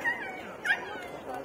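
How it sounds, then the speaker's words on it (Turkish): A dog barks at wild cats in a zoo-style park, a brief, fairly faint yelp rising over steady outdoor background noise. "Ona havlayan bir köpek."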